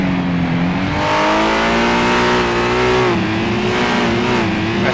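Touring car engine in a racing video game, a steady loud mechanical drone with layered harmonics rising and falling slightly as revs shift, continuous and close throughout with no talk.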